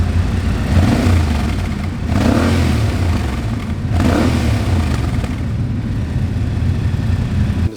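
A Yamaha Ténéré 700 Rally Edition motorcycle rides through a tunnel, its engine droning loud and close with echoing reverberation, swelling in a few revving surges over the ride.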